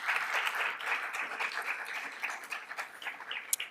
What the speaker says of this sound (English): Can you join me in just once again giving her a round of applause?